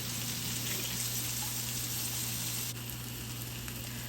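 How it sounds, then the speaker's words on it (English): Washed frozen cooked shrimp frying in a Presto electric skillet: a continuous, even hiss of sizzling with a soft watery crackle, steady and close with no voices. "I've just washed it and added to the skillet here."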